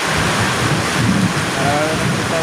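Steady, dense broadband hiss of heavy rain pouring down, loud and continuous throughout with no pauses.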